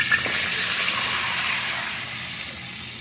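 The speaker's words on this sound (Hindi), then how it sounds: "अब हम इसमें डालेंगे पानी।" Water poured into a pot of hot ghee with rice and moong dal for soft khichdi, giving a loud hissing gush at first that settles into a steady pouring rush and slowly fades.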